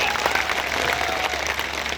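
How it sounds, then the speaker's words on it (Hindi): A dense, steady wash of audience applause rises from the back of a crowd at an evening celebration of Lord Parshuram's birth anniversary, many hands clapping together continuously at moderate volume with no pauses. "जो पीछे से ताली बजा रहे हैं"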